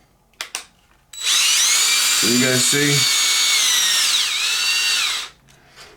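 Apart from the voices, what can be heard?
power drill driving screws on a Traxxas X-Maxx RC car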